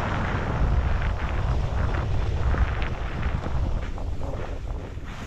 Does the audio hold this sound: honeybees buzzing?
no